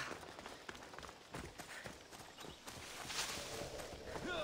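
Horse hooves gallop in Assassin's Creed Odyssey, a quiet run of rapid clip-clop beats under soft ambient background noise.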